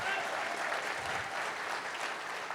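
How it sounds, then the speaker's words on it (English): An audience at a Christian cosmology conference gives a speaker a round of applause, steady dense clapping that fills the room at moderate level without pause. "Give him another round of applause."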